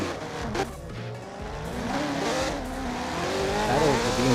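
BMW drift cars at a drift competition run with rising engine revs and tire squeal, the pitched howl of the motors climbing and sweeping as the cars slide, fairly loud and continuous.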